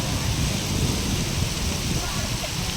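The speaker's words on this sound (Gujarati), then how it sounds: "તો વરસાદ ચાલુ થઈ ગયો, હવે વરસાદ જાય એની વાટે રહેવું પડશે" Heavy rain pours steadily, heard from shelter beneath a bridge, a dense even roar of falling water with a low rumble underneath and no clear speech.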